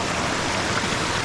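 A woodland stream on the Clougha Pike footpaths rushes steadily past, a close, broadband wash of flowing water with no voices, constant and even throughout.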